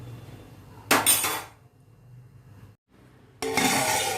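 A plate set down as a lid over a cooking pan while making ennai kathirikai kulambu, an oil-rich brinjal curry, gives a loud clattering clink of crockery on metal, then a quiet pause before a second burst of clatter.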